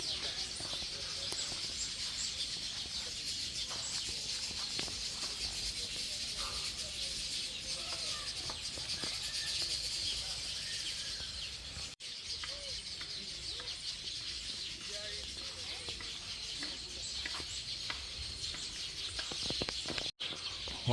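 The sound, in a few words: weaver birds calling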